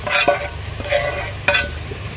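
Sangalai leaves roasting in a pan on a village cooking fire, with soft sizzling and a few light scraping stirs over a steady low background.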